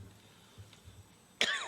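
A single sharp cough bursts out near the end, loud and close, after a stretch of quiet room tone at a press conference on COVID-19 in the Philippines.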